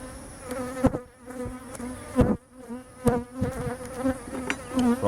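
Worker honeybees swarm around an opened beehive during a check-up, a close, steady buzzing drone with wings whirring near and passing by, rising and falling with occasional bumps from hive handling.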